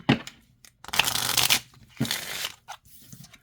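Pocket-sized oracle divination cards are shuffled overhand, giving several quick papery bursts of riffling and slapping separated by short pauses, close and clear.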